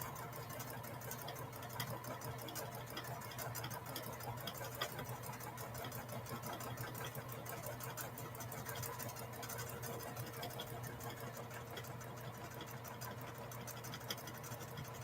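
Home sewing machine quilting feather patterns, running in a steady, continuous mechanical whir with fine rapid needle ticking, fairly faint and unbroken throughout.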